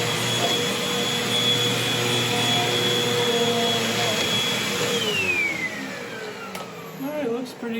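Upright vacuum cleaner running loud and close with a steady high-pitched whine and roar, its pitch dropping as the motor slows near the end.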